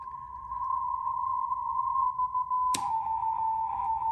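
Rohde & Schwarz EB200 or EK070 radio receiver output carrying a steady tone; a sharp click about three quarters through shifts it slightly lower in pitch, with a faint hiss underneath.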